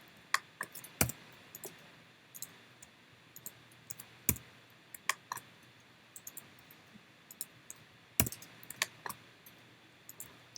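Individual computer keyboard keys pressed with sharp clicks, scattered at irregular intervals over a quiet background, with a few louder isolated presses standing out.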